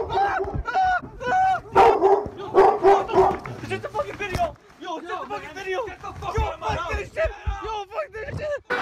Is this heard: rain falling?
no